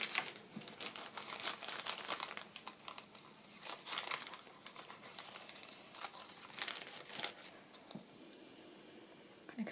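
Small craft bits rummaged about inside a little bag, giving steady crinkly, crumpling rustles with brief sharper crackles, close and fairly quiet throughout.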